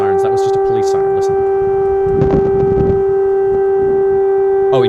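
A loud siren holds a steady, sustained wail throughout, with someone talking over it at the start and at the end.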